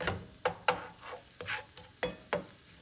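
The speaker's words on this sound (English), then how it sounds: "the onions and the serranos have been cooking for just a little bit now" Onions and serrano peppers cooking in butter in a pan, a low, quiet sizzle punctuated by several sharp spatula scrapes and stirs at an irregular pace.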